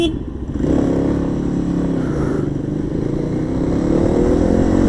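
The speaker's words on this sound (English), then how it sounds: "But from second gear onwards, it's, come on, let's go, Venza." A Kawasaki KLX 300 motorcycle engine drones loudly and steadily as it pulls through the gears, a close mid-pitched hum that rises slightly and holds with no talking.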